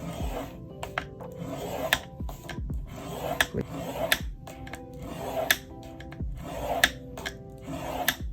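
A scoring tool is drawn repeatedly across paper for a handmade fabric-style travelers notebook, giving a soft, rhythmic rasping and scraping roughly once per second, close and fairly quiet, with light tapping clicks mixed in.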